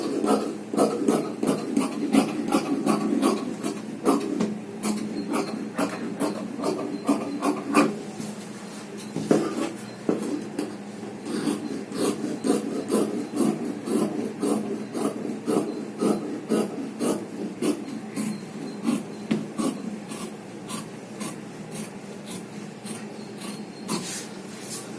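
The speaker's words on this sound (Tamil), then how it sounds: "நம்ம இந்த யோக்கு வர இடத்த கரெக்டாக வெட்டி எடுக்கிறோம்." Scissors snip through blouse fabric at a tailoring table in a steady run of short, crisp cuts, close and clear, with no voice over them.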